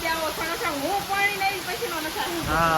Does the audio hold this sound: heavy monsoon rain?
yes